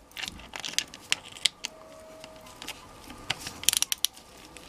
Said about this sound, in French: Et c'est une clé 12 qu'il faut.